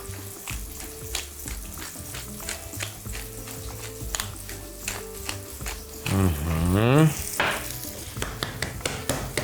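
Savory herb sizzles in olive oil in a pan next to beef, a moderate frying crackle with repeated taps and scraping, a brief louder whoosh midway, then the steady sizzle returning.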